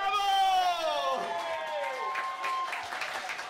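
An audience applauds after the winning bid at a charity auction held during a Niemen birthday celebration in 2012. The clapping is steady and fairly close, with sustained tonal sounds heard over it.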